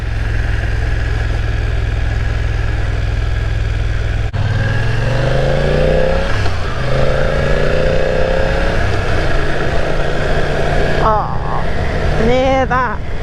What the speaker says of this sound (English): this is a 900cc twin engine, and I have to say I am a fan of a twin. I think they sound lovely.